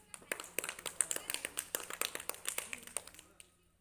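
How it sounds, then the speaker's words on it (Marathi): Many small hands clapping together in a second-grade summer classroom, a quick burst of sharp irregular claps at moderate distance, with a teacher's voice speaking underneath. "अरे टाळ्या वाजा सगळ्यांनी"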